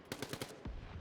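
Rapid bursts of gunfire from the video game Quantum League. Several quick, evenly spaced shots are followed by a duller thump, all fairly quiet and with no talking over them.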